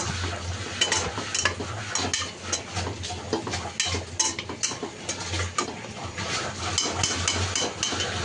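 Cowpeas stirred into frying masala in a pan, with a steady run of spoon scrapes and knocks over a continuous sizzle, close and fairly loud, no talking.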